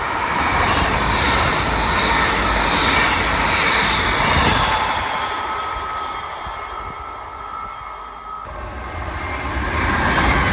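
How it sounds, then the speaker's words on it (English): A Hull Trains passenger train on the Newcastle to Edinburgh Waverley line rushes past with a loud, sustained roar and rumble of wheels, easing slightly before swelling again, with no voices. "The next train up. Hull trains from Newcastle to Waverley."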